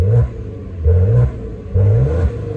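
Maserati Ghibli 3.0 V6 in Sport mode gives three quick, loud revs in steady rhythm, each a rising growl dropping back to a rough idle, heard up close with no voices.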